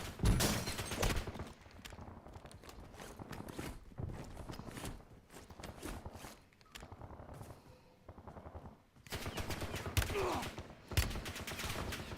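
Rapid video game gunfire in repeated bursts, with sharp, loud shots crowding together like automatic fire and a few quieter gaps between volleys.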